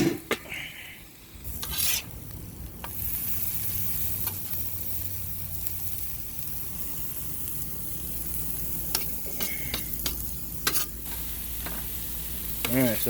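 Pork frying on a hot griddle, a steady close sizzle with stirring and scraping of the meat running continuously throughout, no talking.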